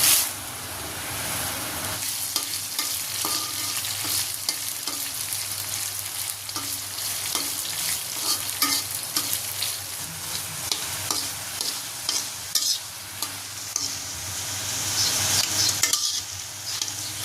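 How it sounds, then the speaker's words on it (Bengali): Dried red chilies fry in hot oil in a wok for a flavoured mash, a steady close sizzle with frequent scraping and stirring clicks of a utensil against the pan, rising louder near the end. "মরিচগুলোকে লাল লাল করে ভেজে নিয়েছি"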